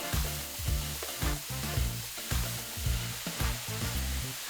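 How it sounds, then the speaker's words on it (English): Broccoli rice fries in a hot wok with a dense, continuous sizzle, broken by regular rhythmic scrapes and tosses of a spatula. "now we're going to put in our broccoli rice that we've already prepared, keeping your wok nice and hot"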